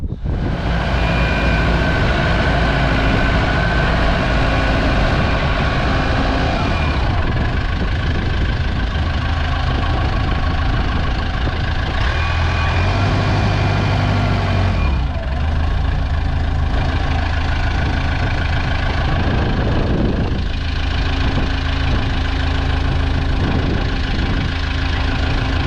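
A DAF truck's diesel engine, in an overland camper build, runs loud and steady at close range, a continuous rough idle that lasts throughout.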